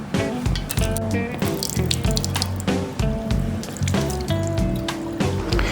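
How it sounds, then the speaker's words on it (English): Tap water running into a sink while small plastic printhead caps from a Canon TM5200 printer are rinsed, a continuous splashing gush with irregular bursts and clatter close by. "Wash it with tap water."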